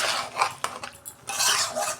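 A metal lid is set onto a cooking pot of spicy goat liver curry, giving a few close clinks and scrapes of metal on metal against steady kitchen background noise.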